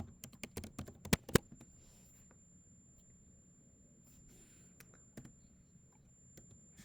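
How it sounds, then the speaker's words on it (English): Typing on a computer keyboard, a quick burst of close, sharp clicks at the start, then sparse scattered taps in a quiet room. "I must have typed something too quickly."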